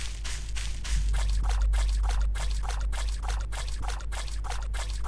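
Water pours steadily inside a Slendytubbies fan horror game, a continuous splashing stream that pulses in repeated rhythmic surges over a low rumbling drone, with no talking.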